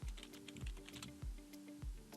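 Typing a short search word on a computer keyboard: about four distinct, soft key clicks at an even pace, fairly quiet and close, with no talking.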